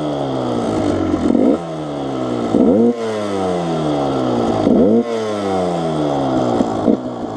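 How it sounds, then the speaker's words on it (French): A two-stroke Yamaha YZ-based 125 DTR enduro motorcycle engine revs hard in repeated rising sweeps, about four climbs and drops, loud and close with a buzzy, raspy tone and no talk. "je vous laisse savourer le son du deux temps"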